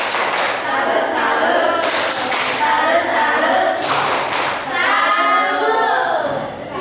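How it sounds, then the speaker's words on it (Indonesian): A classroom group performs a rhythmic clapping cheer, a tepuk salut, with bursts of hand claps and thumps that come in patterned waves, loud and close, with voices mixed in. "Kita kasih tepuk salut untuk kelompok 2. Tepuk salut."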